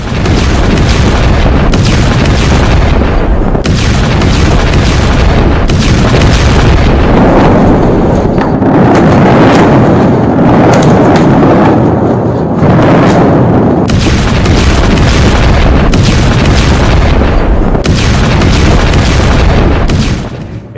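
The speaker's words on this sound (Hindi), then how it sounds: "ये इजरायली अटैक है जो धमाका हुआ है तेहरान में" Heavy booming blasts from an Israeli attack on Tehran, loud and overpowering, with repeated deep explosions and rumbling bursts sustained across the whole stretch, with no voices.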